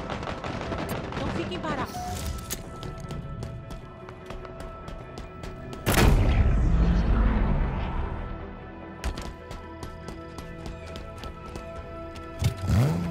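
Gunfire in Halo Infinite multiplayer crackles in repeated bursts and sharp single shots, with a heavy blast near the middle, mixed with game effects while a voice speaks over it.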